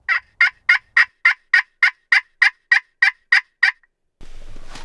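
A wild turkey tom gobbles in a rapid series of about fourteen loud, evenly spaced calls close by, followed by a short burst of rustling noise.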